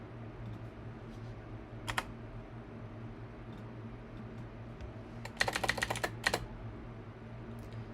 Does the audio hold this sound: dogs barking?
no